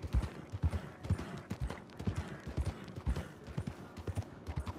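Horse hooves galloping at a steady, rhythmic clip-clop, close and loud, from a mount running low on stamina in the Red Dead Redemption 2 video game; no talk over the pounding beats.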